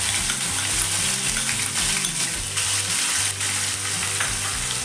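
Onion and garlic paste fries in a hot pan with a loud, steady, close sizzle. Stirring noises mix with the hiss, and no one speaks.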